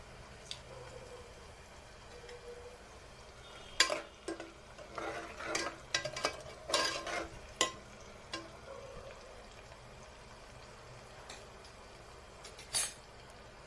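Bay leaf and cumin go into hot oil for veg pulao, and a spoon stirs and scrapes the pan in a cluster of metallic clatters over faint sizzling, with quiet stretches before and after.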